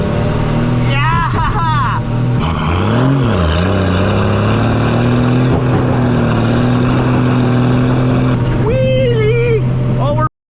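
A 1975 Dodge D600 truck engine roars loudly and steadily throughout a wheelie, its pitch dipping and rising as it revs. Excited shouting and voices break in over the engine.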